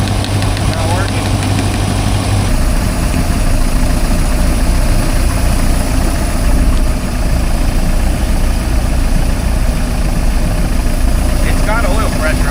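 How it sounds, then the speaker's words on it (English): An engine idles steadily with a constant low rumble and mechanical vibration throughout, fairly loud and close. "Well, at least the engines work."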